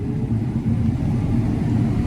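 A combine harvester engine throttling up at the start of corn harvest, heard as a loud, steady low mechanical rumble that stays constant throughout.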